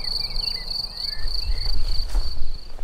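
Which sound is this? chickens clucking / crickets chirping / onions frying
crickets chirping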